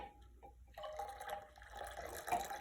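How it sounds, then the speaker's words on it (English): Rehydrated yeast being poured into a container of beer wort on a homebrew day gives a short, close liquid trickle and splash that starts after a brief drip and runs steadily for about two seconds. "now let's add our rehydrated yeast to it."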